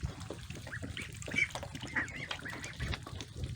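Young ducks peep and chirp in a busy cluster, high calls overlapping in quick bursts at close range, with no talking.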